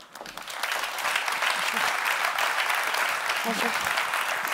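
An audience at a business forum for Vaud companies bursts into steady, loud applause for the board chair taking the stage, with a voice briefly greeting the crowd over the clapping.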